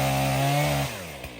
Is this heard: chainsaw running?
yes